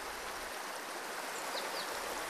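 Spring water of Sarab Farasban near Nahavand streams and rushes steadily, a dense continuous broadband flow heard close by with no voices.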